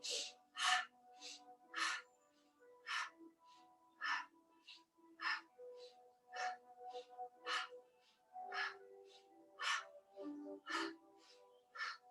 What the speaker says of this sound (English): we're going to take kind of quick breaths in through the nose and out through the mouth